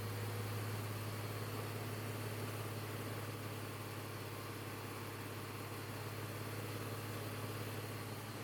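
BMW E46 car engine at a rough idle: a faint, steady low hum with constant vibration and no talk.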